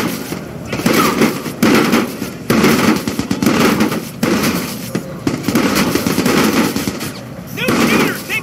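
Rapid bursts of video game gunfire from an AI shootout in Watch Dogs 2, loud, close and almost continuous, with sharp cracks and brief pauses between volleys, and occasional voices underneath.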